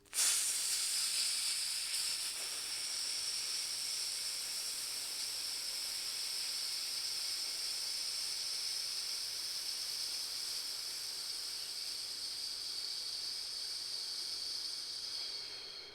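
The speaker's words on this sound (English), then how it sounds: "to let the air slowly flow out" A slow, controlled exhalation of breath, released gradually as a steady airy hiss that carries close and continuous for the whole stretch, with no talking.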